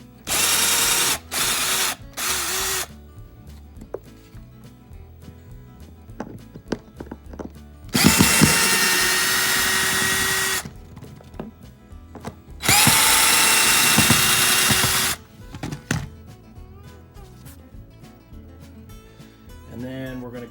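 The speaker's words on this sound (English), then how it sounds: "we're going to take all these 3 screws that are just behind your flip-up seat" Power drill backing screws out of a flip-up seat on a 2008 Ranger bass boat, several short whirring bursts early on, then two longer sustained runs, with handling clatter and light talk between them.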